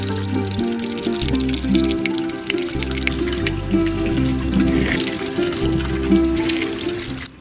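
Water runs steadily from a mineral spring tap in Pyatigorsk, a continuous splashing trickle with music playing underneath.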